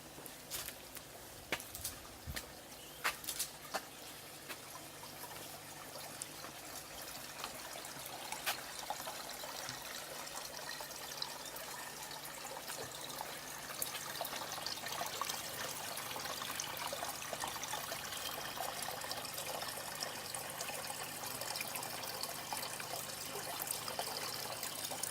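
Water trickles steadily into a backyard garden fish pond, a soft, constant splashing dribble heard up close with no voices, the flow staying even and gentle throughout.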